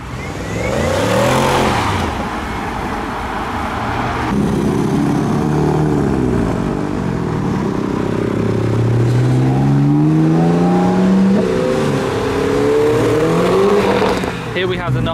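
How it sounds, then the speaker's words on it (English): A pink modified Fiat 500 revs and accelerates in a car park among other cars, engine tone rising in sweeps toward the end, loud and close beneath ongoing talk. "The pink Fiat 500."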